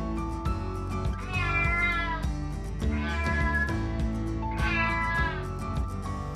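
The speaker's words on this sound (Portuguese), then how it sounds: "Os gatos são animais de companhia" A domestic cat meows repeatedly, several drawn-out, rising-and-falling cries spaced across the stretch, close and clear with no talking.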